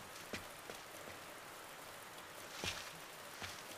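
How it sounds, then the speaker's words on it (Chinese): Heavy rain pours outside during an evening gathering, a soft, continuous wash of falling water with a few sharper spattering drips, heard fairly faint and without voices. "又會咁大雨嘅"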